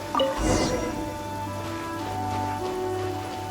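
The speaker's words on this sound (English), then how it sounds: "When stuck on a deserted island, rain is a precious source of drinking water." Steady rain falls in a soft, continuous hiss in the video game Genshin Impact, with a low hum and faint tonal drones beneath it.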